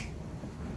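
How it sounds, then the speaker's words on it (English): Finger snapping, a classroom roll-call where children with names starting with a k sound snap along, as a dense scattered crackle of many small snaps at once, steady and moderately loud throughout without talk. "snap your fingers"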